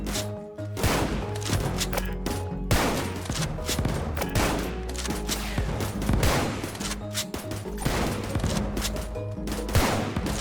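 Dense, loud gunfire and explosions from a video game, with rapid overlapping bursts and heavy booms filling the whole stretch without a break.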